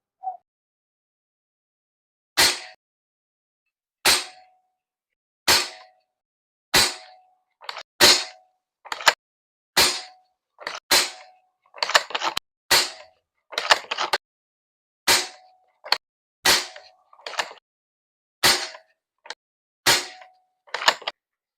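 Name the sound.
rifle firing a group of shots with T-Rex magazine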